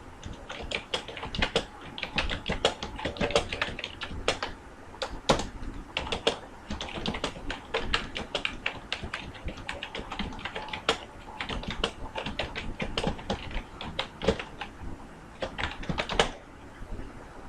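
Rapid, irregular keystrokes clatter on a computer keyboard for a long stretch, close and crisp with brief pauses between bursts, entering text into an app's typing area.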